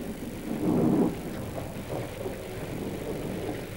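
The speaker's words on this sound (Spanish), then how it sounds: "Sigue lloviendo." Steady rain keeps up as a soft, constant hiss with a brief deeper rumble near the start, heard indoors with no voices.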